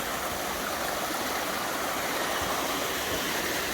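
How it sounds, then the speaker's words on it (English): Small double waterfall on a beck beside a little stone bridge in the Lake District, rushing steadily and evenly throughout, close and fairly loud, with no other sounds. "A little double waterfall going on."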